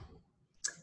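A single short computer mouse click, close and crisp, heard alone in a quiet room.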